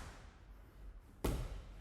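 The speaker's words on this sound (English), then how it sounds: "If I do a long jab, it will look and sound like this." A long jab punch lands on a punching bag as a single sharp thud, fairly near, after a quiet stretch of room tone.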